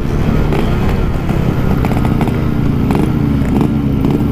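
An old Yamaha RX two-stroke motorcycle engine revs hard and runs loud and close, a raspy, crackling drone that rises and falls in pitch throughout without a break.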